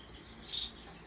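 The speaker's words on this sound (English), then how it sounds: "These are Gouldian babies that you hear singing." Gouldian finch chicks in an indoor bird room give a faint, brief high chirp in the middle of a soft hissy background.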